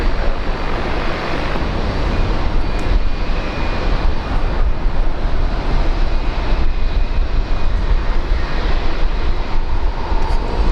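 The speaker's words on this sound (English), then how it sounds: "Rex Saab 340 lining up on the right side." A Rex Airlines Saab 340 turboprop takes off from runway 19 right at Brisbane International Airport, a loud, steady engine roar that fills the whole stretch without a break.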